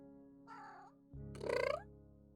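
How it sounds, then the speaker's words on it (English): A house cat gives two close meows in quick succession, a soft short one followed by a louder, longer rising cry, with faint background music underneath. "You might hear little meows."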